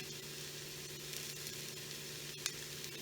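Chicken quarters searing in a pan, seasoned with salt and pepper, a low steady sizzle with a faint hum beneath and one small sharp tick, fairly quiet and close.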